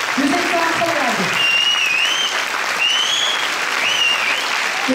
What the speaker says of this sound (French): Donc je pense qu'on peut encore tous les applaudir.